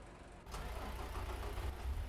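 Kenworth T600 truck with a 525 horsepower Cummins N14 Select Plus engine starting up in American Truck Simulator: a cranking burst gives way to a steady, loud low idle rumble.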